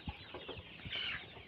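Several chickens, both hens and roosters about six weeks old, cluck softly and close by in a short, brief burst of low calls, with no voices heard.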